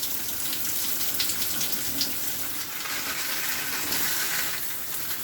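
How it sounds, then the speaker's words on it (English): Hotel spa shower head running, a steady broadband hiss of water spray that holds at an even level throughout with slight surges, no voices. "it literally diverts all of the water to the other shower head"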